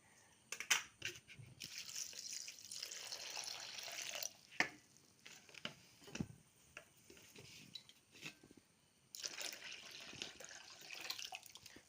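Water poured over cut aloe vera pieces and a lump of jaggery in a container, intermittent splashing and trickling with clinks and short pauses, fairly quiet and close.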